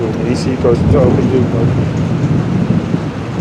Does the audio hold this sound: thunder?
yes